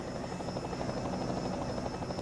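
A helicopter flies over a race circuit in a video game, its steady, loud rotor thrum and engine buzz continuing unbroken.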